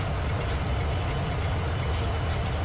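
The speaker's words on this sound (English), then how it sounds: "The engine sounds are phenomenal" Engines of an IXEG Boeing 737-300 in the X-Plane 11 flight simulator give off a steady, dense rumble with a low throb, loud and unbroken from start to end with no talking.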